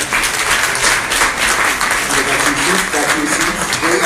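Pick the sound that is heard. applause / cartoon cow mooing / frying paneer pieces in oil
applause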